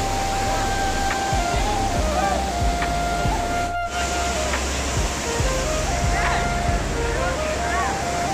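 A waterfall beside a highway ghat near Bhopal gives off a constant broad rushing roar, loud and unbroken, with people talking faintly over it.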